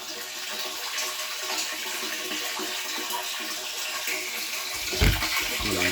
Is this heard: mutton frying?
no